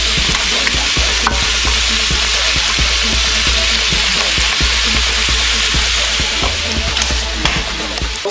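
Noodles and vegetables for beef lo mein cook in a pan with a loud, dense, continuous sizzle and frequent light stirring clicks, heard close up.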